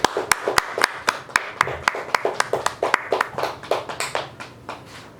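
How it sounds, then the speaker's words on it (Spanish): Rhythmic hand clapping, a few people clapping together at a steady pace, fairly close and crisp. "Fuertes aplausos para el maestro Hugo Alberto Hidalgo Buenavista."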